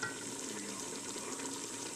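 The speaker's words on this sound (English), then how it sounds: "I'm just going to let it simmer for a while" Homemade spaghetti sauce bubbles quietly in a pot on low heat, giving a faint, steady soft sizzle and gentle popping throughout, with no talking.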